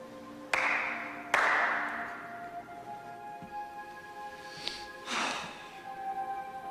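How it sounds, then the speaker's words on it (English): Two sharp hand claps ring out in quick succession near the start, each with a brief room echo, followed by quiet ambience and a faint tonal hum. "Clap twice."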